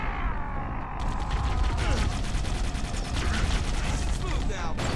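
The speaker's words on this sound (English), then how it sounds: "Gotta love that plasma grenade chain reaction" Plasma grenade chain reaction in Halo: Combat Evolved, heard as a roar of overlapping blasts and crackling bursts that hold steady for several seconds, close and loud, with a voice faintly underneath.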